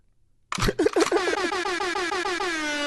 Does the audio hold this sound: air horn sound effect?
yes